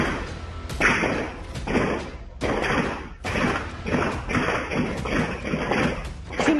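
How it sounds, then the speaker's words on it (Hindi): Repeated sharp gunshots in rapid succession on a dense, noisy CCTV recording of a shooting attack in a village, each a hard crack with a short tail, coming in irregular bursts. "गोलियों की तड़तड़ाहट सुनाई दे रही है।"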